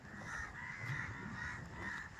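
Crows caw repeatedly overhead, loud and steady, in a rhythmic series of harsh calls over outdoor background noise, with no talking.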